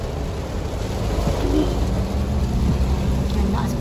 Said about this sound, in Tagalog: Maulan na po talaga ngayon.